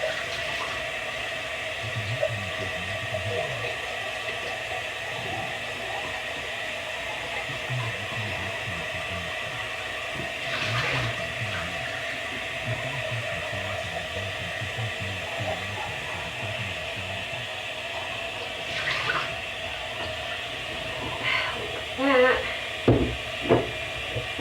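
Water runs steadily from a tap while mugs are washed out, a continuous hiss with faint clinks and handling knocks near the end.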